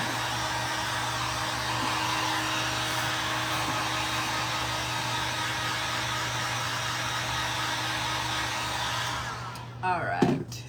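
A hair dryer blows a steady, loud roar while drying paint on terra-cotta pots, running for about nine seconds before it shuts off with a brief handling clatter at the end.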